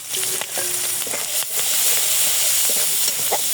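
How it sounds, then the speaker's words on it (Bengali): Chopped onions and green chillies fry in hot oil, a dense continuous sizzle and hiss with a few light clinks and scrapes of stirring, close up and steady, no one talking. "পেঁয়াজটা একটু ভেজে নিচ্ছি"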